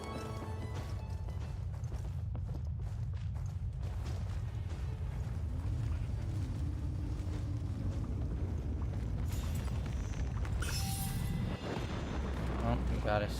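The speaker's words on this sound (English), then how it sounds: "Oh, we got explosion." An explosion in Genshin Impact rolls out as a deep, sustained rumble with dull booms. It stays loud and heavy through the clip, and a voice can be heard underneath.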